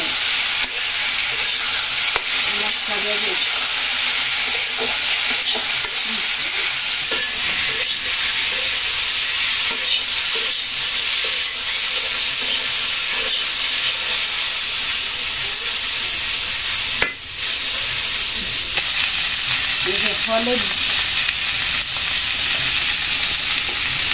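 Vegetables dusted with turmeric fry in a pan over a village cooking fire, producing a loud, steady hiss and sizzle throughout with a few soft stirring scrapes and one brief clatter.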